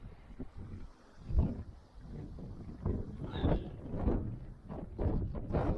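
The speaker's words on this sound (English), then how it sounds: "The wind is really bad" Outdoor wind gusts by a small stream and footbridge, buffeting the microphone in uneven rumbling bursts that rise and fall; no talking is heard.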